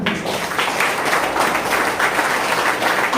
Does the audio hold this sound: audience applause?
yes